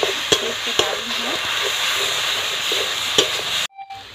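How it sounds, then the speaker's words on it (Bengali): Ginger paste fries in a pan for prawn malai curry with a steady sizzle and a few sharp stirring knocks, then cuts off abruptly near the end into near silence. "তো আদাটাকেও আমি একটু ভেজে নেবো যাতে কাঁচা গন্ধটা ফেলে যায়।"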